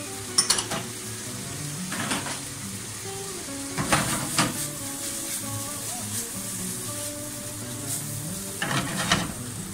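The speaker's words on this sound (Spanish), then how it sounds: "Salteamos un poco, le añadimos un poquito de agua y finalmente le añadimos" Tomatoes sautéing in a pan with a little water, a low sizzle broken by occasional clinks and scrapes of a utensil against the pan, with some faint kitchen background sounds.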